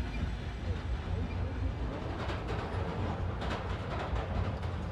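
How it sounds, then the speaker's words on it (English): A train rolls past in the Spider-Man Miles Morales video game, a steady rumbling roar with faint rhythmic clatter that holds at an even loudness throughout. "Need to wait for the train to come by"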